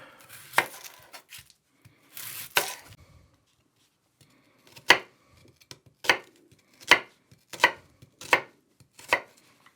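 Onion being chopped on a board for a traditional cottage pie, about a dozen sharp knife strikes: a few scattered at first, then a steady run of evenly spaced chops, close and clear with no talk.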